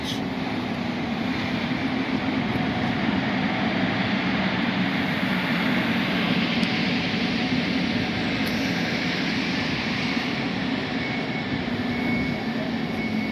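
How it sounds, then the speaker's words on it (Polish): An Intercity passenger train from Przemyśl to Vienna arrives at Tarnów station in Poland, rumbling steadily and loudly nearby, a continuous heavy roar with rolling wheel noise and no talking. "teraz nadjeżdża Intercity Porta Morawica do Wiednia z Przemyśla"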